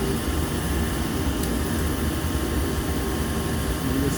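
Natural gas furnace burner firing during a limit switch test, a steady close roar of broadband rushing noise with a constant low rumble and no talk.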